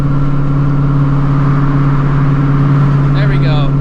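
A 900hp Shelby GT350's engine holds a loud, steady, droning note heard from inside the car, a constant deep hum with no clear rise or drop.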